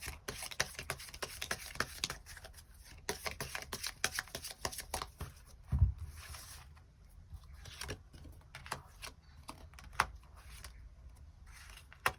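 Tarot cards shuffled by hand in a long run of soft, rapid riffling and patter, steady and close with no talk over it.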